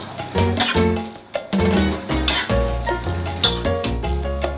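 Chicken giblets stir-fry with holy basil in a pan, giving steady sizzling and crackling broken up by metallic clanks and scrapes of a spatula against the pan, close and busy.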